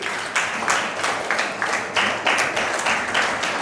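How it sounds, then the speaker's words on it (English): A crowd claps steadily, a dense wash of applause from many hands with no voices standing out. "Big round of applause to all of you."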